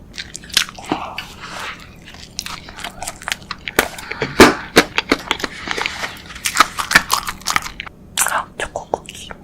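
A crunchy chocolate cookie is bitten and chewed close to the mic, giving loud, sharp crunches in an irregular rhythm with softer crackles between bites.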